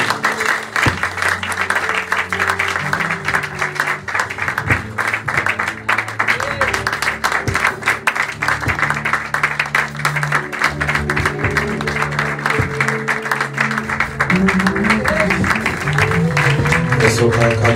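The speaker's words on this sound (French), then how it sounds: "Une acclamation royale." Congregation applauding during a Sunday church service, with loud sustained clapping and cheering mixed with voices and music, continuous for the whole stretch and swelling slightly near the end.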